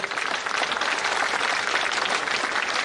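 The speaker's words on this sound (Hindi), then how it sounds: "ऐसी तालियां बजाकर बजाओ जरा।" A large crowd claps at the closing ceremony of the Khelo India Youth Games at Boat Club, Bhopal, a dense, loud, continuous applause filling the whole stretch without any talk on top.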